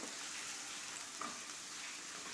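Soft, steady frying hiss of finely diced peeled potato in a pan with chilies, cooked for fasting sabudana khichdi; faint and continuous with one small pop, no voices.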